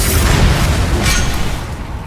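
Confringo spell explosion in Hogwarts Legacy: a loud, deep booming blast with a heavy rumbling low end and a crackling burst at the top, sustained for about two seconds and fading slightly, with no voices.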